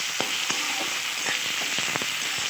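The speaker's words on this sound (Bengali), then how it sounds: "এবার আবারও নেড়ে চেড়ে মশলা" A spatula scrapes and stirs sizzling masala of dried chilli and ginger-cumin paste in a pan for a paneer dish, with steady frying hiss and repeated sharp scraping strokes close by.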